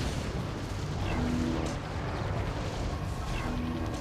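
A meteor tower in the tower defense game Defense Grid: The Awakening strikes with dull, booming impacts. They sit inside a dense, continuous wash of battle noise, with no clear gaps.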